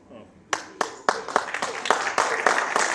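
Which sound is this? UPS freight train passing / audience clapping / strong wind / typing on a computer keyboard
audience clapping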